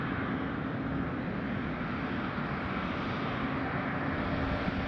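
A private jet roars on the runway during takeoff at an airport, a loud, steady, broadband engine rumble with a low hum that holds evenly throughout, close and with no voices.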